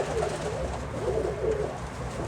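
Russian Statnyje pigeons cooing among rhododendrons and azaleas, soft low murmuring coos repeating over a faint outdoor background.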